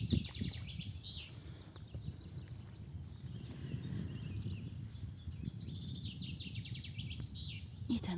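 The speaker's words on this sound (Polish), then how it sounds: "Te trele ptaszkowe są takie głośne" Songbirds trill loudly in open spring farmland among yellow flowering rapeseed fields, a steady chorus of bright chirps and warbles carrying on throughout, with soft rustling and footsteps underneath.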